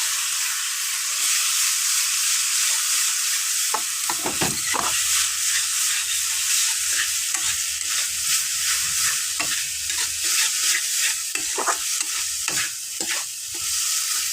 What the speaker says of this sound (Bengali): এবার আমি এই পেস্টটার সাথে মশলাটাকে কষিয়ে নেব।